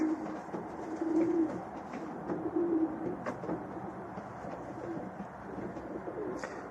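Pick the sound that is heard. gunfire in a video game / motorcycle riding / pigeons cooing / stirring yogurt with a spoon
pigeons cooing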